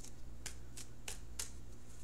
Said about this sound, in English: I'm shuffling for the outcome card